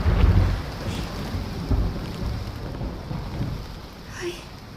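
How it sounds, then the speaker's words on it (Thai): Heavy rain pours steadily while deep thunder rumbles and rolls in waves, loud and close, with no speech over it. "ฝนก็ตกหนัก ไม่มีทีท่าว่าจะหยุด"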